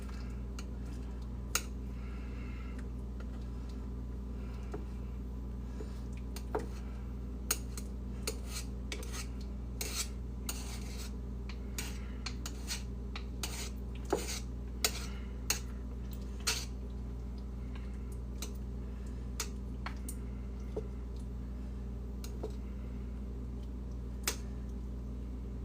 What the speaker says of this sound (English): we're going to just take our spoon, we're going to smoosh that meat in